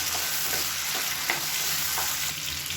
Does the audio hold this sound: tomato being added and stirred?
yes